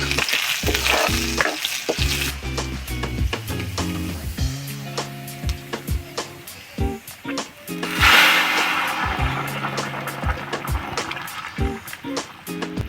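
Panch phoron, onion and dried chili fry in hot oil in a karahi, a loud continuous sizzle with repeated stirring scrapes and clinks throughout.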